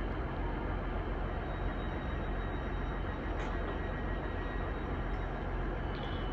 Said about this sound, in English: Now I can film this train going out.